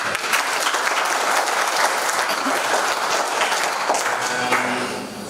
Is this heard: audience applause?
yes